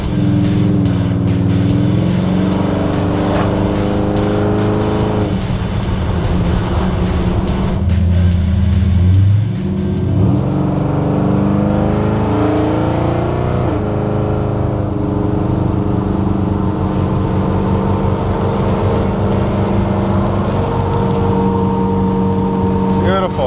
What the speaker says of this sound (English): Feels great getting on the highway.